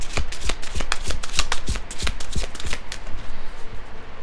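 Tarot cards shuffle in quick, crisp riffles and flicks, loud and close, then thin out to a few softer slides as the cards are pulled.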